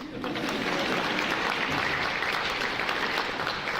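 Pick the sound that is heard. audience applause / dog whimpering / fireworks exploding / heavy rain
audience applause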